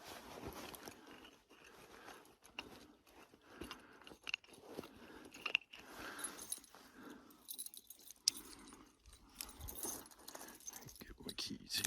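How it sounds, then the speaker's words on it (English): Small metal keys jangle and clink in irregular bursts while trail cameras locked on public land are unlocked outdoors, close and fairly quiet, with someone speaking softly in between. "Get my keys here."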